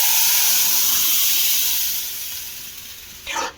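Semolina and tomato batter poured into hot oil with cumin seeds, a loud close hiss that fades gradually, followed by a short burst of sizzling at the end.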